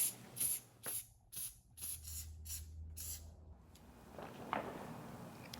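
Aerosol can spraying penetrant dye onto rusty Yanmar engine parts: a series of short, sharp hissing bursts close by, then quieter rubbing and handling noises.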